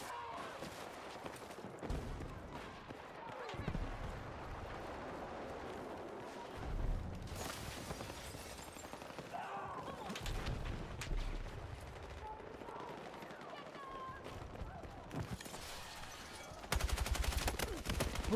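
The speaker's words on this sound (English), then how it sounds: "As soon as I start shooting someone, I get shot from another angle." Gunfire in a first-person shooter video game, with crackling bursts and scattered shots running almost continuously under background game noise, moderately loud.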